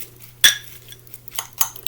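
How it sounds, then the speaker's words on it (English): Cheese, butter and crackers for a scalloped corn topping being mixed in a dish: a sharp clink of a utensil against the bowl, then two softer scraping clatters, close and alone. "I'm going to mix my cheese up with my butter and my crackers"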